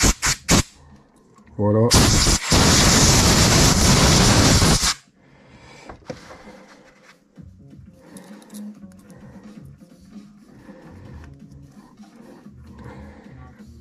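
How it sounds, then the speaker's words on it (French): Compressed-air blow gun drying a semi-integrated mountain bike headset: one loud, close hissing blast lasting about three seconds, followed by quieter handling noises and someone talking. "Alors moi, pour bien sécher, un petit coup de soufflette."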